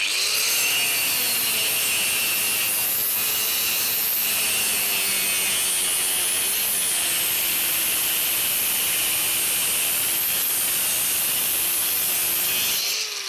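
A HAUER cutting disc slices through a piece of wood, a loud continuous high-pitched grinding and rasping whine that holds steady for the whole stretch without pause.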